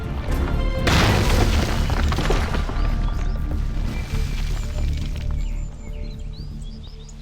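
A landmine explosion: a loud, deep boom erupts and rumbles on, crackling debris and low roar slowly fading over several seconds.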